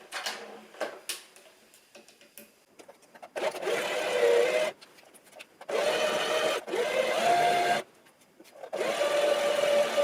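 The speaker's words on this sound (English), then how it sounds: "So I'm just doing straight stitch." A sewing machine runs a straight stitch along a garment sleeve, its fast mechanical whir coming in several sustained bursts separated by short pauses, preceded by light ticking and handling clicks.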